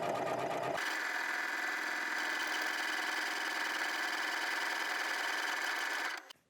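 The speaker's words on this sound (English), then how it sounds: "as it sews the beading stitch, it's stitching right over top the cord." A sewing machine with a buttonhole foot sews a beading stitch over a cord for a corded buttonhole, running continuously with a steady, close, whirring hum and rapid needle rhythm before stopping at the end.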